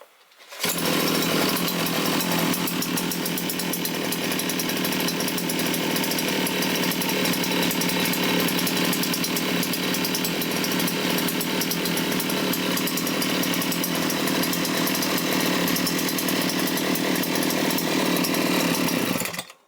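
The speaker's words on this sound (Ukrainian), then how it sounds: "Коса працює як новенька." A petrol brush cutter, or string trimmer, runs loud and close after starting, its engine holding a steady high-revving buzzing drone for nearly twenty seconds with no talk.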